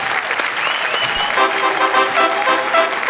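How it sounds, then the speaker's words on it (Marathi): Audience applause at a televised Marathi comedy show, steady clapping that fills the whole stretch at full loudness, with a faint crowd murmur underneath. "जोरदार टाळ्या गुरदीप कौर याच्यासाठी"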